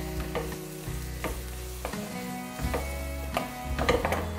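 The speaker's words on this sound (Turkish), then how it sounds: "Öncelikle biberi ekliyorum. Bir iki dakika böyle onu kavuracağım." Peppers sautéing with meat in a pan for shepherd-style kavurma: a steady, close sizzle broken by repeated clunks and scrapes of a utensil stirring, with a low hum running underneath.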